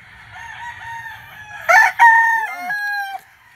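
A gamecock stag at a game farm gives a single loud crow, close by, after quiet clucking and low background noise.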